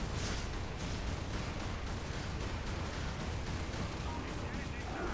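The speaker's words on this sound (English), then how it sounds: "Just keep firing those missiles" Missiles fired repeatedly at a tank in the game Prototype make a dense, continuous roar of blasts and rumbling explosions, loud and unbroken throughout.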